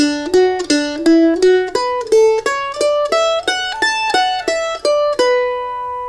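A mandolin plays the opening phrase of a bluegrass tune: a quick, even run of about fifteen bright picked notes climbing and falling, close and clear with no talking.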